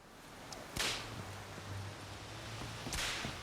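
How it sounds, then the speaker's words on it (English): In The Witcher 3, two sharp whip cracks snap out loudly about two seconds apart over a low ambient game hum. "Wow, that's a loud whip."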